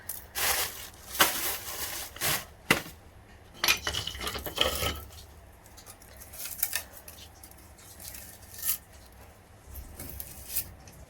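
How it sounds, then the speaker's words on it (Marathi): Onion chopped in a hand chopper in a home kitchen, a close series of crisp cutting clatters and rattles in bursts, heaviest early on and then thinning to scattered scrapes and taps. "पहिले आपण कापून घेऊ कांदा. कांदा चॉपरनच कापून गेला पटापटा"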